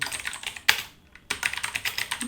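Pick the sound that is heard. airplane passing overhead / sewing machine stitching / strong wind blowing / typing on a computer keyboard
typing on a computer keyboard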